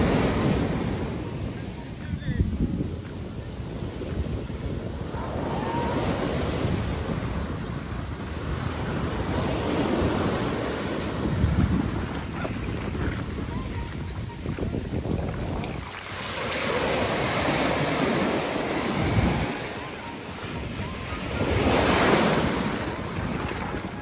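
Rough sea waves crash and roll onto Achakar beach, a steady broadband surf roar that swells and recedes in several surges, with some wind buffeting the microphone.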